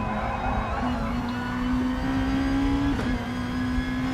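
A race car engine in a racing video game drones steadily at a constant high pitch, rising slightly before a brief dip, with no voices.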